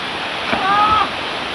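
Water at Ezharakund waterfall in Kannur, Kerala makes a steady rushing sound, with a brief voice heard over it partway through.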